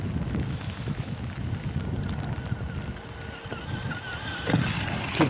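A Traxxas Slash RC car drives through rain, its electric motor giving a steady, fairly close rushing whine with wet splashing and rattle throughout, and no talk.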